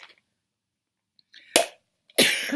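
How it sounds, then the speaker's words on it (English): Two sharp coughs break the near silence, a short one followed by a louder, longer one, close to the listener. "I know I'll cough anyway."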